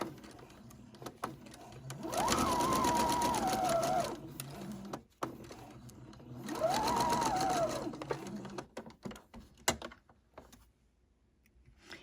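A sewing machine sews quilt seams for a scrappy quilt block in two distinct runs of steady, close stitching. Each run lasts about two seconds, with handling clicks and quiet pauses between them.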